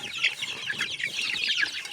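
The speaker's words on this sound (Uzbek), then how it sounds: "Mana ular tavuq." Several chickens clucking and chattering together close by, a busy overlapping stream of short calls with no pauses.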